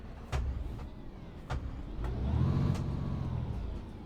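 A VDL Citea LLE bus engine revving in the OMSI 2 bus simulator: a steady low diesel idle rises into a swelling rev and eases back, with a few faint clicks over it.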